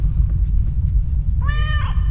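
A ginger cat in a video game lets out one clear, short meow over a steady low background drone; nothing else stands out.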